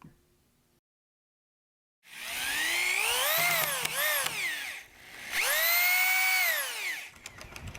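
A power drill drives 3-inch screws into wooden studs of a halfpipe frame, two loud whining bursts that rise in pitch as each screw spins in, up close after a quiet pause.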